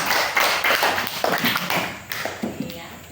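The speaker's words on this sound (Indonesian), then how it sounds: "Iya, tepuk tangan juga." A classroom of students claps hands in short, uneven bursts, fairly close, with voices mixed in.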